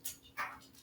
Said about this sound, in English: sorry if you can hear my dog in the background.